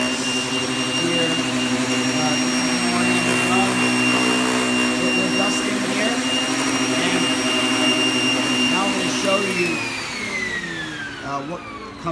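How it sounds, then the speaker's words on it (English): A rug dusting machine with two spinning beater bars that pound the back of a rug over metal grates, a loud, close, continuous mechanical whine and roar that drops in pitch toward the end as it spins down. "has a beater bar in it, two beater bars that spin and beat the back of the carpeting"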